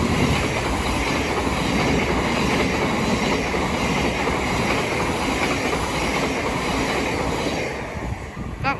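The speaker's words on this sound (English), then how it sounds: "we're about to have a Thameslink Class 700 pass by from Brighton to Cambridge" A Thameslink Class 700 electric train passes through Sydenham station on the Brighton to Cambridge route, making a loud, continuous rushing roar with rhythmic wheel clatter that stays close for several seconds before easing off slightly.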